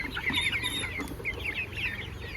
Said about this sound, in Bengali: এটা মোরগ